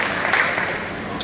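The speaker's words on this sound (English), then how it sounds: "Big round of applause" Crowd applause in the main arena at Crufts 2013 during a Good Citizen Dog Scheme display, a steady wash of clapping throughout a short moment.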